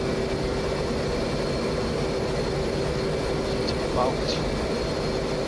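An F/A-18 in the DCS flight simulator drones on carrier approach, its jet engine a steady, broad roar. Someone talks briefly over it, and a short blip stands out near the end.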